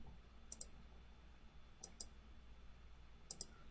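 Computer mouse clicks while right-clicking through NX software menus: three quiet, crisp double clicks spaced evenly over a few seconds against a soft background hiss, with no talking.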